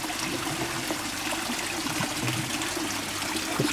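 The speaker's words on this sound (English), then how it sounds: "Our waterfall there." A garden pond waterfall gives a steady, soft trickle and splash of falling water, continuous and fairly faint throughout.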